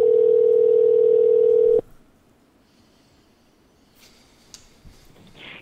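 A telephone line emits a steady electronic tone for almost two seconds while a call is being transferred, then cuts to near silence with faint clicks.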